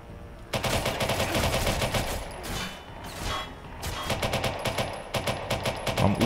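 Gunfire in the video game Watch Dogs 2, rapid automatic bursts of shots in loud, close rattling volleys with brief pauses between them.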